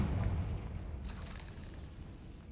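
A Confringo fire spell from the Hogwarts Legacy video game bursts with a loud, booming explosion that rolls out into a rumbling, gradually fading tail.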